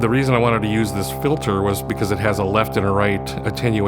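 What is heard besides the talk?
No distinct noise like a dog, phone or traffic.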